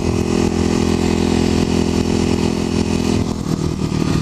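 A Kawasaki KLX250SF motorcycle rides along at steady speed, its engine droning loud and continuous with wind rush, shifting tone briefly near the end; no one speaks.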